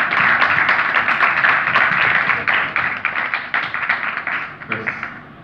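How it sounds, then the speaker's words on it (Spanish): An audience applauds a tenor, dense rapid clapping from many hands that is loud and sustained at first, then thins into scattered claps as it fades. "Un aplauso porque es demasiado cantante para tan poco aplauso"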